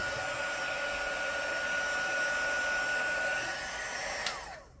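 A heat gun blows hot air in a steady, loud whine that drops in pitch and fades out as it is switched off near the end.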